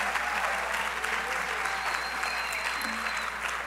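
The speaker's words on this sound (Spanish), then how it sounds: "un aplauso para todos esos estudiantes destacados de la Universidad Interamericana de Bayamón" Audience applause for outstanding students of Universidad Interamericana de Bayamón at a student leadership showcase, a dense, steady clapping from a sizable crowd, sustained and fairly close throughout.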